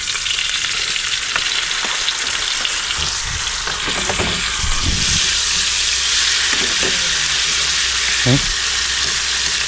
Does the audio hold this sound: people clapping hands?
no